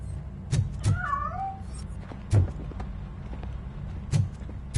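A cat meows once in the video game Robocop: Rogue City, a short rising and falling call, over a low steady hum with a few soft thumps.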